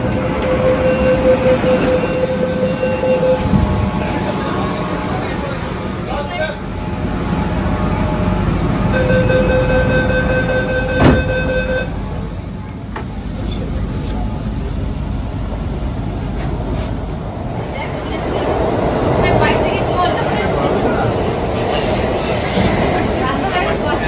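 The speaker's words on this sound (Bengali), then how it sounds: "এখন প্রবেশ করতে চলেছে হুগলি নদীর তলদেশে মেট্রো রেল সড়কের মধ্যে।" A metro train runs through the underwater tunnel beneath the Hooghly river in Kolkata, a continuous loud rumble with wheel hum, brief tonal whines and a rise in roar near the end.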